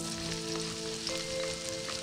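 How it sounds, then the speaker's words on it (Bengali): Chopped garlic hits hot oil in a pan, producing a quiet, steady sizzle close up, with a faint tonal hum running beneath and no voices. "এবং সেখানে আমি রসুন কুচি দিব তেলটা একটু গরম হলে"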